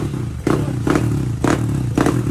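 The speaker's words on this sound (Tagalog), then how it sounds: "Ayan, tingnan nyo naman, napakatahimik na makina." A stock Yamaha Aerox V1 scooter, bored to 220cc with an RS8 head, block and throttle body, idles up close with a low rumbling hum and four rhythmic surging pulses.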